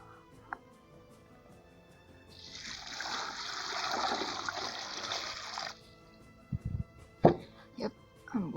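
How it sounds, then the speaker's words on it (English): Linen fabric being washed in hot water in a basin, with a sustained splashing and sloshing wash lasting a few seconds, followed by a few sharp knocks and handling sounds nearby. "I'm washing it in hot water first."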